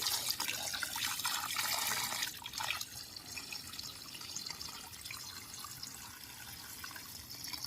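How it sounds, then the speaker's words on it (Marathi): Steady splashing water pouring and spraying close by, heavier at first and then settling into a softer continuous stream, with no voices. "रोज सकाळी झाडांना पाणी घालावे लागते"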